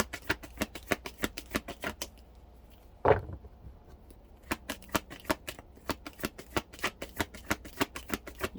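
Tarot cards riffled and shuffled close up in fast rhythmic bursts of crisp flutters, with a short pause and one louder thump partway through before the steady shuffling resumes.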